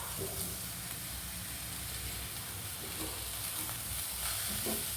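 Purple cabbage with grated coconut and garlic stirred in a frying pan, a steady soft sizzle and hiss with faint scraping strokes of the spoon, no talk.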